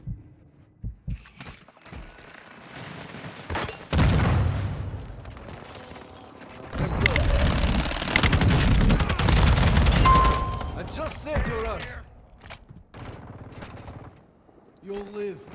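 Gunfire and explosions in a Call of Duty battle, sharp bursts and heavy rumbling blasts at varying distances, with radio-style voices speaking between and over the shots.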